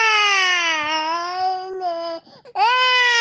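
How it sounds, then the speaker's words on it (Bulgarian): A cartoon baby cries loudly and continuously in long wailing sobs, with a brief catch of breath before the crying resumes, close and alone. "Като видя влечугото, малкото бебе започна да плаче силно."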